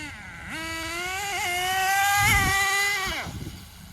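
HotBodies Tornado nitro RC car engine opened to full throttle, a loud buzzing whine climbing and holding a high steady pitch for several seconds, wavering briefly, then dropping off as the throttle closes.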